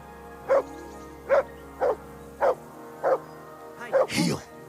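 A dog barks in Kingdom Come: Deliverance 2, giving six evenly spaced, moderately loud barks over a low ambient hum, before a voice briefly speaks at the end.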